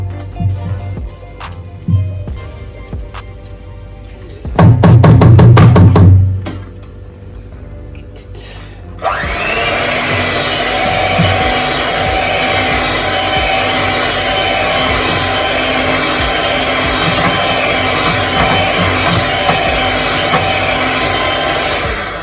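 An electric hand mixer runs with a steady, continuous motor whir as it mixes fruit cake batter for a Jamaican Christmas coconut fruit cake, starting after some earlier kitchen clatter and holding steady to the end.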